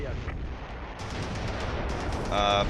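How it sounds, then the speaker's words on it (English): Incoming mortar fire in the World War II strategy game Close Combat III, with a rumbling blast and crackling explosion noise filling the clip before a sharper burst near the end. "Mortar fire is coming in."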